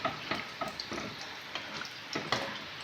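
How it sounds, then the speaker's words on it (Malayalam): Bonda fries in sunflower oil with a close, even bubbling hiss broken by light crackling pops every fraction of a second. "ഇത് വറക്കാൻ വേണ്ടിയിട്ട് ഞാൻ സൺഫ്ലവർ ഓയിലാണ് എടുത്തേക്കുന്നത്"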